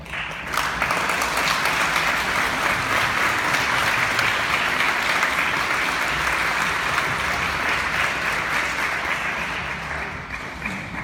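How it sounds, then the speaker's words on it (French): A church congregation applauds at an Easter vigil, a dense, steady wash of many hands clapping that holds loud and even for about eleven seconds before easing slightly at the end. "Et nous vous encourageons, nous vous applaudissons bien fort."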